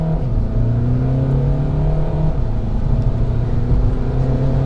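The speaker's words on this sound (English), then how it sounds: "Left foot on the brake, right foot on the accelerator, revving the motor" A Skoda Rapid Monte Carlo engine held against the brake revs loudly and steadily, its pitch shifting as the car pulls away, heard up close without talk.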